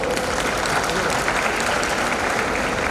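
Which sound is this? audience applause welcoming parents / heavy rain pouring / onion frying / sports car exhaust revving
audience applause welcoming parents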